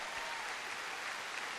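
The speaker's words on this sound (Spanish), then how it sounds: "Dale un aplauso fuerte al Señor por esa palabra" Steady applause from a church congregation, sustained evenly throughout as a continuous wash of clapping without voices.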